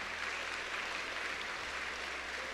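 Steady applause from a congregation filling the room, a continuous even wash of clapping heard from a distance, with a low hum underneath.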